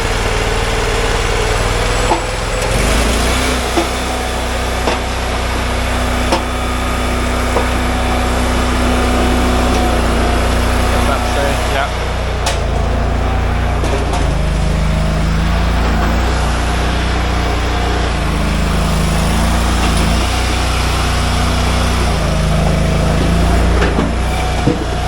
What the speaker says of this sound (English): I'm gonna get the conveyor belt going, okay?